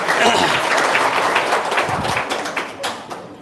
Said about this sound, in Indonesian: Tepuk tangan dulu dong biar semangat